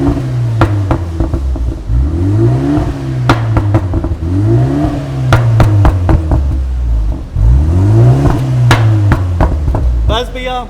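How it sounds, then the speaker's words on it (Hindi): A BMW with a tuned ECU and stock exhaust revs repeatedly, the engine note sweeping up and falling back, with sharp pops and bangs crackling on each overrun, loud and close. "हमने ना इसमें थोड़े से ना पॉप्स एंड बैंक्स भी ऐड किए हैं"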